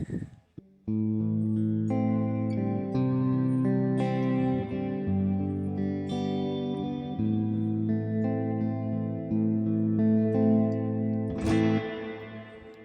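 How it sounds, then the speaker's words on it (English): Sustained electric guitar chords ring through a Joyo Atmosphere pedal set to church reverb, each chord blooming into a long, spacious wash that carries over the next. "So church reverb would be a bit more of a bigger, more expansive reverb."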